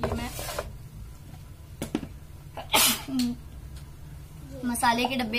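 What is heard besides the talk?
sneeze caused by spice smell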